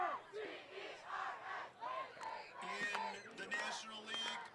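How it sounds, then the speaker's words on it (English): A school student section at a Mad Town Bowl football game cheers and chants together in rhythmic bursts, loud and close, with a brief whistle-like tone near the end. "They're going to leave us with a cheer"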